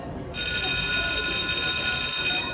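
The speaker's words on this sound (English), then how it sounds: "Oh, look, there's the bell." A school bell rings loudly and continuously, with a bright electric ringing tone that starts suddenly, holds for about two seconds and then stops.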